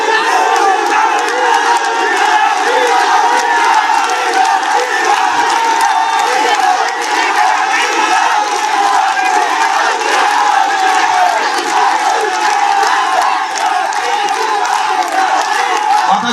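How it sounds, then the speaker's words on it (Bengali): A large crowd at a Cumilla division demand rally shouts and chants slogans together, loud and continuous, a dense roar of many voices with cheering throughout. "এই দাবিটি যদি চিল্লালে লাভ হবে না ভাই"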